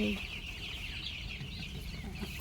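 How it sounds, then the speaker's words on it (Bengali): Chickens kept in a shed cluck faintly and intermittently against a low, muffled background, with no clear speech. "তারপর দেখো মুরগিগুলো আমার কেমন লাগছে"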